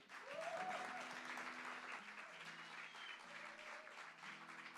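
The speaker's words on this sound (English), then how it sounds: "will you please give a massive round of applause for our first artist tonight" An audience at The Bedford, a live music venue, breaks into sustained applause and cheering, a dense wash of clapping with whoops, while background music tones sound beneath it.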